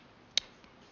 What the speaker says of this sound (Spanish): Voy a darle clic aquí en parar el render